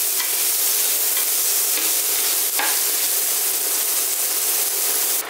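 Finely chopped onion sautéing in oil until golden for palak paneer: a loud, close, continuous sizzle and hiss holds steady throughout, broken once by a brief scrape of stirring, with no voices.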